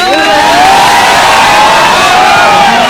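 Loud crowd at an outdoor gathering for a visiting performer in Vav, Banaskantha, cheering and whooping continuously with dense applause throughout, close and sustained with no pause.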